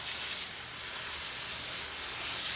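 A hand sprayer misting garden plants such as hostas, a steady close hiss of spray running continuously for a couple of seconds with a slight dip near the start, no talking.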